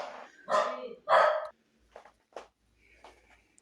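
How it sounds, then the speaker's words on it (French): A dog barks several times nearby, two loud barks followed by a few shorter, quieter ones, with brief pauses between. "J'espère que j'arriverai à enlever un peu les aboiements"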